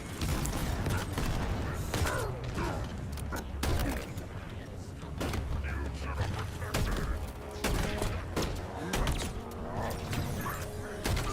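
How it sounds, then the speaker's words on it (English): Bulldog shotgun blasts from the video game Halo Infinite, a run of sharp booming shots at an irregular rhythm, mixed with clanking mechanical game effects and thuds, loud and close throughout. "I think he's using right now the Bulldog, if I'm not mistaken. It's like a new shotgun."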